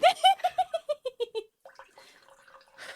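Liquid trickles quietly into a mythosaur cup just after a burst of rhythmic laughter, a soft, uneven pouring sound with faint voices around it.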